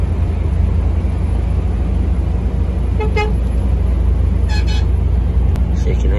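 A truck horn sounds in short toots, a brief burst near the middle followed by a longer double honk, over loud continuous road and engine noise heard from inside a moving vehicle.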